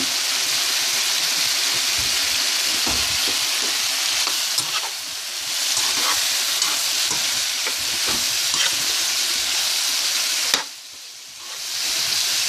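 Onions, green onion and red and green bell peppers fry for shrimp creole, making a loud, dense, continuous sizzle with stirring scrapes throughout and a brief quieter dip near the end, with no talking.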